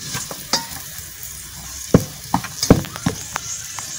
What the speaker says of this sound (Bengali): এখন আমি বেশ কিছুক্ষণ এভাবে নেড়ে চেড়ে পেঁয়াজ কুচি, কাঁচামরিচ কুচি, রসুন কুচি লালচে বর্ণের বা বাদামি বর্ণের করে নেই।